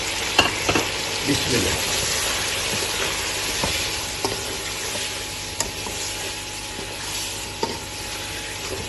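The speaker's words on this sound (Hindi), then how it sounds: "इसको हमने 4 से 5 मिनट तक बुनाई कर लेनी है" Green chillies sizzle and fry steadily in hot oil for Afghani pulao, with a continuous crackle punctuated by sharp stirring clicks and scrapes, close and fairly loud; a brief word is spoken at the start.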